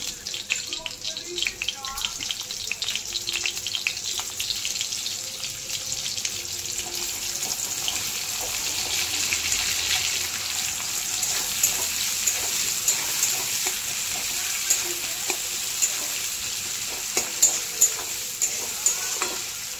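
Onions fry in mustard oil in a wok (kadai) with a steady, close broadband sizzle and hiss, punctuated by scraping stirs and faint clinks throughout.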